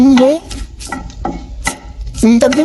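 Green chilies, dried chilies, cumin and coriander fry in a pan for a fish dish, with a few short spatula scrapes and a soft sizzle, and a brief voice at the start and end.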